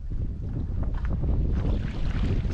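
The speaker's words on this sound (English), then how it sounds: "The headwinds are quite nasty." Strong headwind on a paddling trip around Mäntysalo island in Kolovesi National Park, Finland, buffets the microphone in a constant low roar, with faint water sloshing beneath it.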